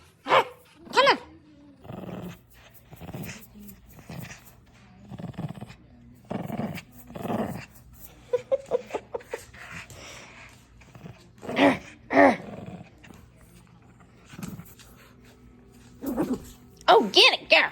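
A female dog growls in short bursts and low rumbles while a person talks to her close by and teases her on, with talk continuing over the growling.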